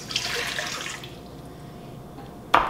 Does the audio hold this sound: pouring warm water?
yes